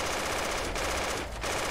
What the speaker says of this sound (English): Fire machine gun, fire!